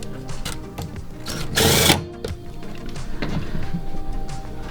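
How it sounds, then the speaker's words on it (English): A drill tightens bolts with lock washers into brass inserts on a kayak. A short, loud whirring burst stands out among softer clicks and handling noises. "Then we're gonna take our drill here and tighten these down"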